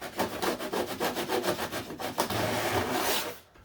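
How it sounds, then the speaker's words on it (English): A sanding block rubs back and forth over litho plate laid against brass in a narrow channel of a scale model canopy rail, making a steady rhythmic scratchy rasp of about a dozen close strokes, then one longer continuous scrub. "I'm going to just use a sanding block in that channel and see if I can sand the litho plate"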